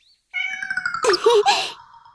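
A person imitating a cat, voicing a drawn-out meow followed by a short, rougher mewing sound, close and loud with no other sounds around it.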